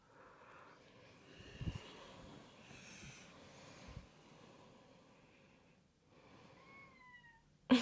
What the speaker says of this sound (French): Ah, le retour du chat.